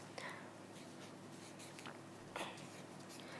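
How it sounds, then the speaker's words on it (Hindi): A name being written by hand on a sheet of paper, a soft, faint scratching of pen strokes with a few brief louder scrapes, quiet and close against a low steady background hum. "तो हमने इस कागज पर लिखा सपना"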